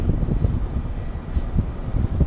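Steady low wind buffets the microphone high up, around 220 feet, on a Bronto Skylift S-90 HLA boom lift, a continuous rumbling roar with gentle swells and no talk.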